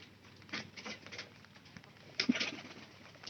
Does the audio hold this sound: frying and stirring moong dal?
no